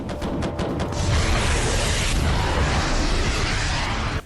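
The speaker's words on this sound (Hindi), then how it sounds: "भारत के टैंक गोले दागते हुए दुश्मन की तरफ बढ़ रहे हैं" Indian tanks fire shells in the Jaisalmer desert: a loud sustained blast and rumble that swells after a second and holds for about three seconds before cutting off.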